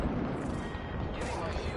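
Gunfire in a shooter game keeps going as a dense, continuous rumble of distant shots and booms, loud and noisy with no clear gaps.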